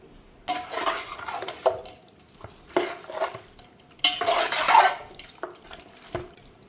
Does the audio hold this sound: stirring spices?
yes